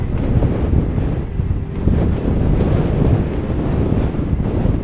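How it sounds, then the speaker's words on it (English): Strong wind gusting across the exposed banks of Ogden Water reservoir, a loud continuous low roar buffeting the microphone with surging swells and no voices. "it's very windy up here."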